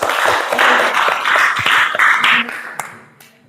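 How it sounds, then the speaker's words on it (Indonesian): A classroom of students claps for a fellow student, a dense burst of hand claps lasting about two and a half seconds before thinning into a few scattered claps. "tepuk tangan buat teman kita ini."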